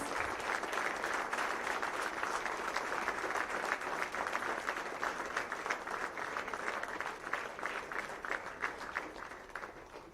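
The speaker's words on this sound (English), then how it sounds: "Big round of applause." Round of applause from an audience at a corporate long service awards evening, many hands clapping in a dense, steady patter that gradually fades toward the end.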